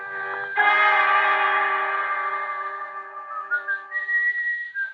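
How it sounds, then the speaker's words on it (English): A single person whistles a sustained, clear melody that swells loudly then wavers into shorter notes, with a slight echo and no talking. "And then I heard the whistling."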